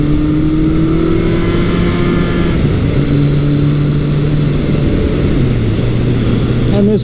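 Kawasaki Versys 1000 LT motorcycle engine accelerating, a loud continuous drone with steady low harmonics that step down slightly as gears change, plus a faint high whine, recorded close and unbroken throughout.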